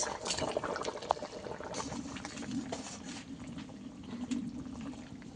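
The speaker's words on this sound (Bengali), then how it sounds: "মাছ দিয়ে কিছুক্ষণ ফুটিয়ে নেব" Hilsa fish curry with elephant foot yam and potato bubbling in a pot, a soft continuous simmer with gentle bursting bubbles and an occasional faint clink, fairly quiet and close.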